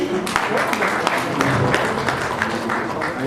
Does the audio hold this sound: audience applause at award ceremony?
yes